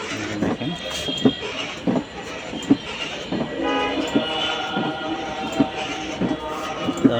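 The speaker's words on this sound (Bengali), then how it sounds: "এটা হর্ন, মিউজিক সব কিছুই আছে" A children's toy Ferrari ride-on car plays electronic music and horn sounds with a steady rhythmic beat and repeating tonal tones at moderate volume.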